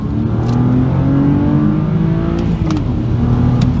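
A BMW 130i with the N52 engine pulls hard under acceleration, its loud, sustained engine drone rising steadily in pitch from inside the car, with no speech.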